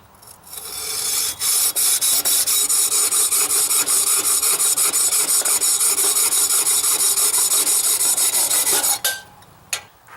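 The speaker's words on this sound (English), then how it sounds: "I'm using a rod saw or tile saw to cut the fiberglass rod" A rod saw, a tile-saw type blade, cutting through a fiberglass rod: a loud, continuous, rasping scrape of rapid back-and-forth strokes that runs for about eight seconds, then stops abruptly, with no talking.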